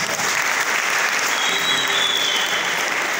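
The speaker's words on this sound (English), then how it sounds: "Let's clap for them as they take us." An audience claps steadily and loudly throughout at an academic excellence night talk show, a dense continuous applause with no talk over it.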